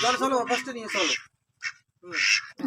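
Domestic ducks being caught in a village coop quack loudly in several harsh bursts, with a short pause midway, and people talk over them.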